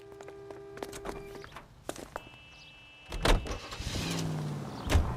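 Car door thunks, footsteps and a power window whir from the 1940s Los Angeles detective game L.A. Noire, followed by an engine starting and revving up as the car pulls away.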